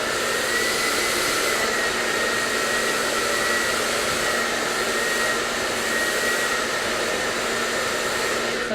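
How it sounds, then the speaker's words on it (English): A hair dryer runs continuously while blow-drying hair, giving a loud, steady close-up roar with a faint whine, held for the whole stretch without any talk. "So I'm actually going to re-blow dry that one"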